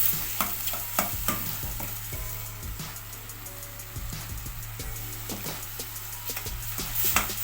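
Mushrooms stirred and frying in a pan with chopped green chillies, giving a steady close sizzle broken by repeated scraping stirs throughout.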